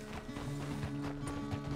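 Horse hooves clip-clop in a loose rhythm in Red Dead Redemption 2, faint and fairly close, with repeated soft knocks over a low background hum.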